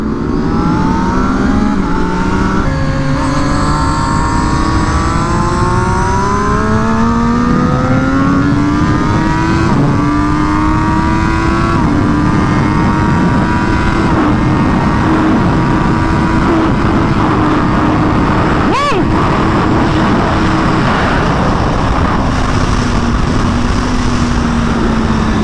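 A racing motorcycle screams around Buttonwillow Raceway, loud and close, its engine note sweeping up and down steadily through gear changes with a continuous roar and no talking.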